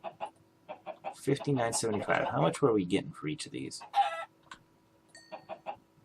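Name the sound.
chickens clucking in a Minecraft modpack video game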